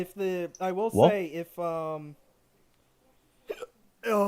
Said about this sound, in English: I don't know why I have hiccups now